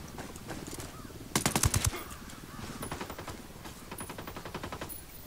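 Gunfire in Ghost Recon Wildlands sounds as a sharp close burst of rapid shots, followed by quieter repeated distant automatic fire underneath faint background noise.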